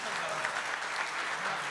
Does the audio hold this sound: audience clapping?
yes